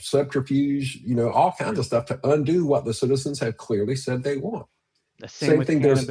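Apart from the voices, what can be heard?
None of the usual background noises is heard.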